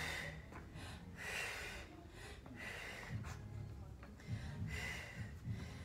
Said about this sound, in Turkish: Küçük nefes al, büyük nefes ver.